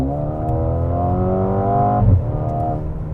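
A 2021 Mercedes-AMG GLA35 compact SUV accelerates at full throttle. The engine note climbs steadily in pitch, then drops sharply as it shifts gear and starts rising again. It is heard from inside the car, loud and close, with no talking.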